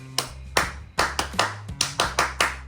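A person imitates the stadium clapping sound effect played at ball games, giving about nine sharp, close claps in a steady, slightly quickening rhythm with small taps between them and no talk.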